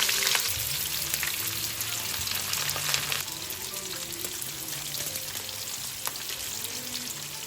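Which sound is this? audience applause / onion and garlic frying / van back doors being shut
onion and garlic frying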